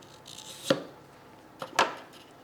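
A kitchen knife cuts through food for an Afghan seekh kabab, with chopsticks placed alongside to stop the blade before it slices all the way through. Two sharp, close chopping knocks land about a second apart, with quiet between them and no talking.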